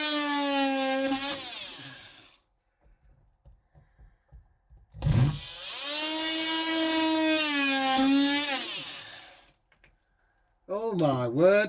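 A hand-held power saw cuts into the inner skin of a small boat hull, whining in long sweeping bursts with pitch that rises and falls, loud and close, separated by quieter pauses with a few light knocks.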